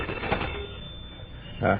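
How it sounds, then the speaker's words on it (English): An old telephone bell ringing in an office setting, short ringing bursts at the start and end with a muffled, band-limited quality and faint voices in between. "Just answer that phone and hold the receiver up so I can hear, too."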